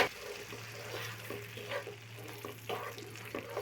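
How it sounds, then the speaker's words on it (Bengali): Water poured in to rinse into a frying spice paste with beaten sour yogurt for a doi katla fish curry gives a faint, continuous sizzle and bubbling with soft splashes, and a low steady hum underneath. "একটু জল দিচ্ছি ধুয়ে।"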